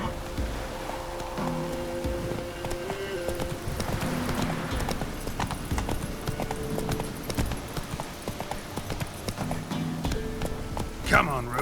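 A horse gallops in The Witcher 3 video game, its hooves clip-clopping in a quick, steady rhythm with ambient wind and surf in the background, while a voice speaks over it.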